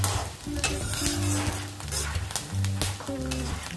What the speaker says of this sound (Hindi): और लाइट गोल्डन होने तक हमें इन साबूदानों को फ्राई करना है